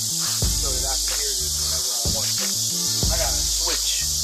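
Cicadas drone in a steady, loud, continuous high buzz from a woodland setting, with low rhythmic music and faint voice-like sounds underneath.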